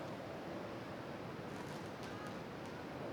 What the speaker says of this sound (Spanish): Aquí está el mar conmigo.